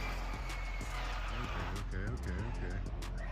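Arrma Infraction RC car on a speed run, tires hot: a loud, steady motor whine with rising and falling pitch sweeps, close and continuous, with talk over it.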